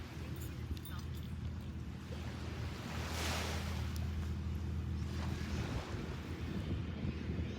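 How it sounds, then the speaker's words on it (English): Wind buffeting a microphone on a windy morning beach, with a low continuous roar of ocean waves and surf underneath, steady and close throughout with a swell of wash in the middle. "It is beautiful at the beach this morning. A little windy, but very, very beautiful."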